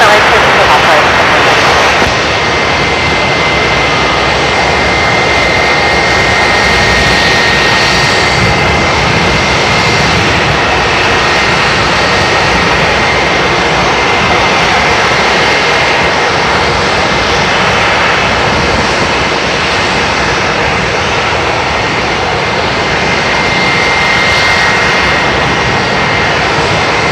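An airliner takes off from runway 34 right at Seattle-Tacoma airport, a steady loud jet engine roar with a faint whine, continuous throughout, with radio talk heard over it.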